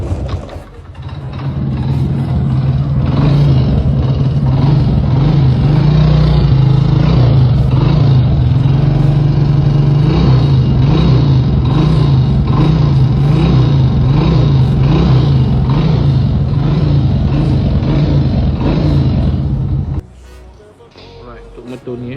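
A Modenas Kriss 100 motorcycle engine runs loud and close at a steady high pitch for about twenty seconds before cutting off abruptly, with someone talking over it.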